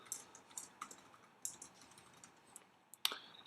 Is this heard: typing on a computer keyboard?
yes